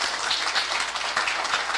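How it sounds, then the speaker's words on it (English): An audience at a community college graduation claps in a dense, sustained patter of many hands, steady and fairly loud, with no voices over it. "I think you need to clap your hands and be thankful"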